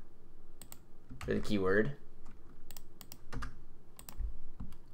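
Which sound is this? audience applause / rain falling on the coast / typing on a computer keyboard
typing on a computer keyboard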